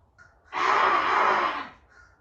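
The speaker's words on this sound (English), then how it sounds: "Birds fighting." Crows caw harshly in one loud, drawn-out burst, as though birds are fighting, close and clear for about a second with quiet before and after.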